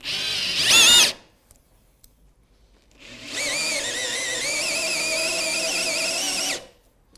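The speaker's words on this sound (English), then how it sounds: "I'm just going to go ahead and drill on through now" A power drill with an auger bit bores through a wooden chair seat, whining in a short burst, pausing, then running steadily for several seconds before stopping; loud and close, with no talking.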